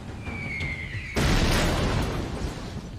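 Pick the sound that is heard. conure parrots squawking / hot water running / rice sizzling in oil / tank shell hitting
tank shell hitting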